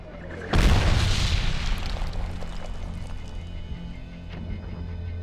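A sudden close mortar shell explosion in Medal of Honor, a loud deep boom that rolls off into rumbling debris and a lingering low tail, with fainter thuds after.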